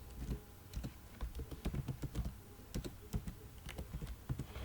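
Keys clack in quick, uneven bursts on a computer keyboard as CSS code is typed, close and fairly quiet, with no talking.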